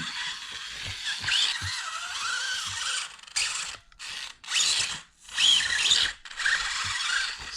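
A brushless-motor SCX24 rock bouncer RC crawler with a full metal chassis climbs rocks, its motor whining in close bursts that surge and cut off repeatedly, with scraping and a few knocks, no talking.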